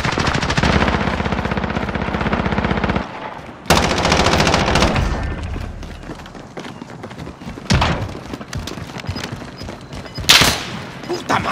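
Rapid automatic gunfire in the video game Call of Duty: Modern Warfare, with loud sustained bursts, brief pauses and sharp single shots, close and dominant, with a voice heard among the shots.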